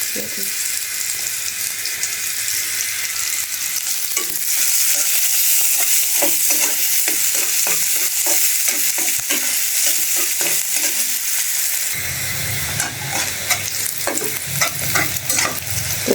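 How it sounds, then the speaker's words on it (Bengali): Fish sizzles loudly in hot oil in a home kitchen pan, with steady frying hiss and repeated scraping stirs, plus a brief watery splash near the end. "মাছটা ভাজা হচ্ছে"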